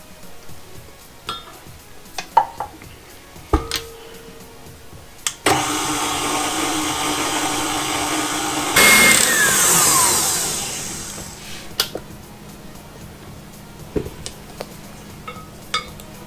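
An electric mixer whips cream for a banana pudding ice cream sundae, making a loud, steady whir for about six seconds that fades as it slows, with scattered clinks of utensils and bowls before and after.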